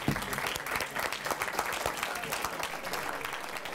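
An audience at a public meeting on marine reserves claps steadily, a dense patter of hands, moderately distant and even throughout.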